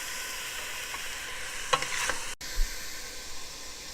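Chicken frying slowly in a pan, a steady broadband sizzle with a few scraping stirs from a utensil in the middle, close and continuous with no talking.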